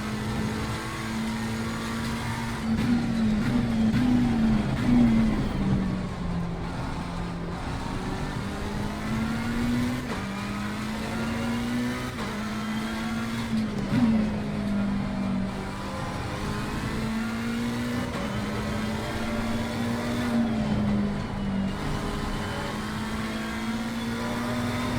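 A McLaren 720S GT3 race car engine in Assetto Corsa Competizione at Laguna Seca drones steadily and loud, with repeated rises and falls as it revs through gears, alone without talk.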